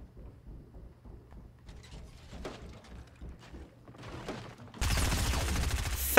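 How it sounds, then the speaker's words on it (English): Mounted turret fire in Fortnite, starting as faint scattered distant shots and thuds, then erupting into a loud, dense, continuous stream of rapid fire for the final second and a half. "there's someone above me with a fat mounted turret"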